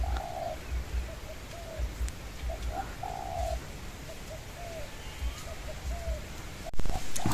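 A decoy dove coos outdoors in repeated soft, rounded calls at a steady rhythm over low wind noise, and a wild dove answers from nearby.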